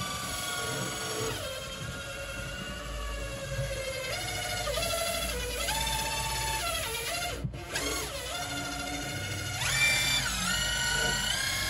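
A drill fitted with a 2-inch medium-bristle blue brush whirs steadily close by as it scrubs caked-on grime in a fish tank neglected for five years. The motor pitch rises and falls throughout.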